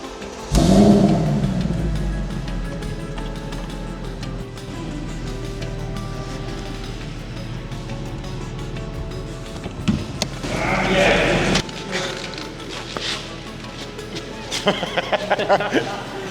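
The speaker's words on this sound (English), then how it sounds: "This is a CLK 63 AMG Coupe with pillarless windows. Let's start it." A Mercedes CLK 63 AMG Coupe with a 6.2-litre naturally aspirated V8 cranks and fires with a loud burst, then settles into a deep, steady idle close by, with a brief blip of revs near the end.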